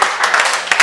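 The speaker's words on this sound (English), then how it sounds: "Let's clap for them again." A brief burst of applause at a consultative dialogue and training event in Niger State, a room of hands clapping together loudly and close, swelling in short waves for under a second.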